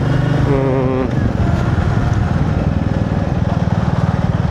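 A Royal Enfield Meteor 350 motorcycle engine runs at a steady, close thump, its even rhythm continuing throughout, with a brief voice near the start.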